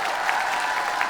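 A brief burst of studio audience clapping on a Kazakh talk show: even, continuous patter from many hands at moderate volume, with no voices over it.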